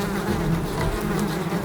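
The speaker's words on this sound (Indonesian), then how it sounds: "Apalagi kalau bukan si lalat yang suka ikut-ikut makan gratis padahal nggak diundang." A housefly buzzes continuously and close by around a person eating, a steady droning hum with slight wavering pitch and no voices.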